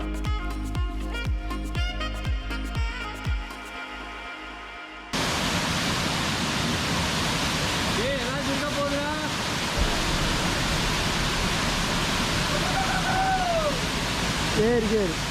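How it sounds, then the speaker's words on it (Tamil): Rushing water roars steadily at the Uluppuni waterfall near Vagamon, Kerala, a dense broadband wash that follows a stretch of music, with people talking over it. "ராஜு பார்த்தீங்கன்னா இந்த அருவி பற்றி எக்ஸ்பிளைன் பண்ண உள்ள அருவிக்குள்ளே உள்ளே போயிட்டு இருக்கிறாரு"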